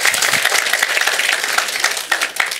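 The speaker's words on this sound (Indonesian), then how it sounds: "Berikan tepuk tangan kita untuk Tuhan kita." Congregation applause at a church Christmas service, a dense, steady wash of many hands clapping that carries on loudly for the whole stretch with no voices over it.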